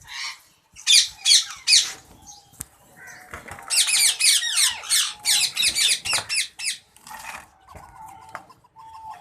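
A ring-necked parakeet on a breeding farm squawks loudly and harshly while being handled, in repeated bursts: a short volley early, then a long run of rapid, grating screeches, with quieter squeaks and handling noises in the gaps.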